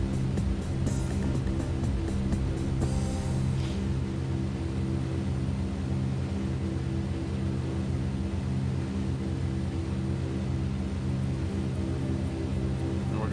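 Twin turboprop engines of a DHC-6 Twin Otter at cruise power in a flight simulator game, a dense continuous drone with layered steady hum and hiss, a few clicks near the start, no voices.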